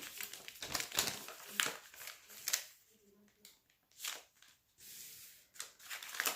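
Scissors snip through the bottom of a paper lunch bag, giving a series of crisp, close crinkling cuts and rustles in irregular bursts with brief pauses between them.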